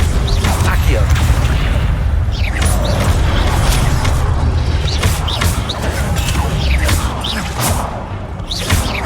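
Accio summoning spell cast in Hogwarts Legacy, heard as a sustained, loud mechanical rush of creaks, rattles and whooshes lasting about nine seconds, with a voice faintly underneath.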